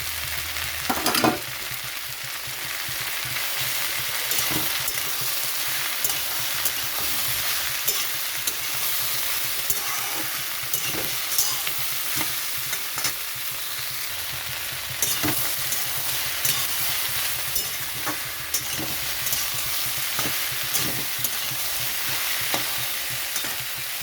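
Shrimp coated in salt and turmeric fry in a hot pan with a dense, constant sizzle, broken by scattered sharp pops and scrapes of stirring throughout, close and unaccompanied by any voice.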